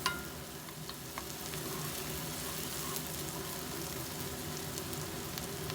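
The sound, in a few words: onions frying with ginger-garlic paste and curry leaves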